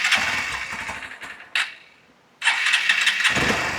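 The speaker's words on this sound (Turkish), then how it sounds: "Mesela şimdi çalıştıralım hemen motorumuzu." A Hero Xpulse 200 motorcycle is started twice: the starter cranks briefly, the engine catches and dies after a short burst, then fires again and settles into a steady, close idle.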